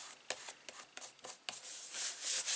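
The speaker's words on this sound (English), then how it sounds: "Give that good burnishing." Paper borders on a Graphic 45 Imagine mini album being burnished, a run of dry rubbing and scraping strokes close by, steady and fairly soft with brief sharper swipes.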